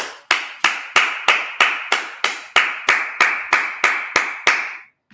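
People clap their hands in a steady, evenly spaced rhythm during a Sabbath service, about fourteen crisp claps close by, with no talk over them.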